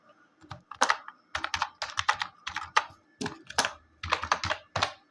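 Close, quick keystrokes on a computer keyboard as a password is typed while creating a Gmail account: irregular bursts of sharp clicks with short pauses, and no talking.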